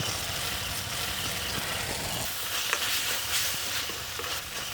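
Tomatoes fry in a pan as cumin and coriander are stirred in while making a village-style okra roti pachadi, with a steady, fairly soft sizzle and faint scraping of the stirring, and no talking.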